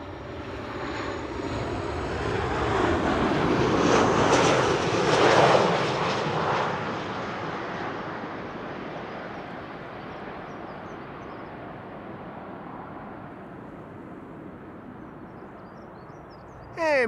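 A Transavia Boeing 737-800 arriving from Valencia lands at Amsterdam Schiphol, its engine roar swelling to a broad peak a few seconds in, then fading into a long, gradually dwindling rumble as it moves away.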